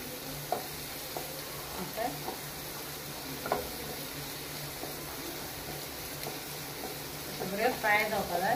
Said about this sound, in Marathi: ओके आता हांव घालता ओनियन हे पळय. फ्राय करून घेवपाचो.